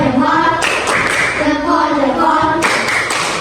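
A classroom of children claps together in a quick patterned thumbs-up cheer, rhythmic bursts of hand claps close by with young voices chanting along.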